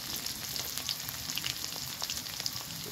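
Cumin, a broken dried chili, crushed garlic and green chili fry in hot oil, giving a steady close sizzle with faint crackles throughout.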